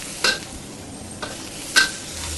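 Meat stir-fried for Khmer fried rice, heard as a quiet background sizzle with two distinct metallic spatula scrapes and a softer one between them, close and brief with no voices.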